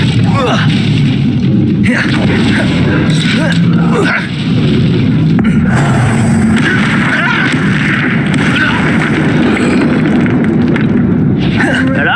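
Confringo fire spell explosions in the Hogwarts Legacy video game, loud and booming over dense game music and effects, with bursts recurring through the scene and a voice speaking.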